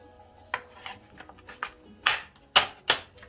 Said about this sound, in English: we're just going to get some real thin slices on this onion here